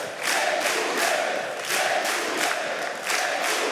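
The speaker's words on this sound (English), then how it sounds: "give him a huge round of applause" A crowd cheers and applauds in swelling waves at a StarCraft II WCS Europe playoff event, with whoops rising and falling at a moderate distance.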